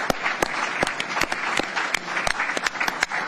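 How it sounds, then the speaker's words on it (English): Crowd applause at a boxing press conference for Derek Chisora versus Otto Wallin, a room of clapping with loud, close individual claps cracking out over the general applause. "Let's get a round of applause, by the way"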